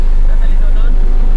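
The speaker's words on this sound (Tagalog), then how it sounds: "ito yung aming panggiling." A grinding machine at a large organic fertilizer farm runs with a steady, loud mechanical drone throughout, while people talk over it.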